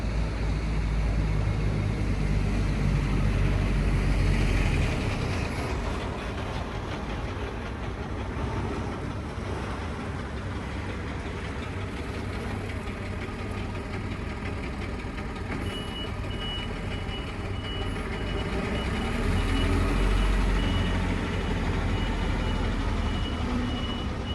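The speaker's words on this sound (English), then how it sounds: "There's a truck pulling up." A bread delivery truck pulls up nearby and backs in, its reversing alarm beeping steadily over a loud, continuous engine rumble that swells toward the start and end.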